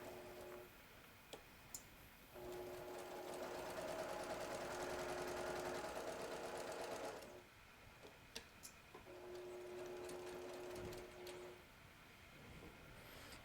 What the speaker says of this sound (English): we're going to stitch right down that edge.